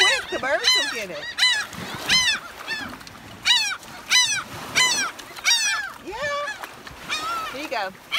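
Seabirds squawk and honk in repeated harsh calls, loud and close, while people on an island beach in the Exumas hand out food, their voices mixing in between the cries.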